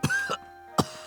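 Character in the video game Nie No Hakoniwa coughing, two sharp harsh coughs close together followed by a third after a short pause, clear and alone.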